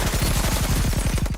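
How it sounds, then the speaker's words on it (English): Rapid automatic fire from a Tommy gun in the video game Mafia: Definitive Edition, a loud, dense burst of about a dozen evenly spaced shots that cuts off abruptly. "Les pièces de résistance. Old Reliable itself. Tommy gun."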